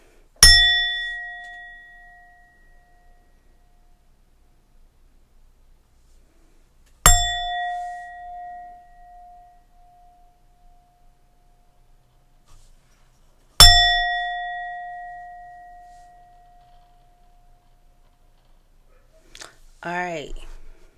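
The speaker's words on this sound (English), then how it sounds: "Let's ring this bell." A bell struck three times, about seven seconds apart, each stroke a bright clang that rings and slowly fades, followed by a brief squeaky rustle at the end.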